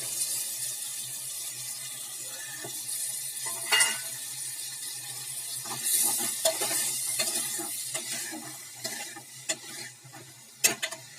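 Cluster beans and onion sautéing in a pan for kuruma, a steady fry hiss with scattered scrapes and clinks of a utensil, close by, no talking.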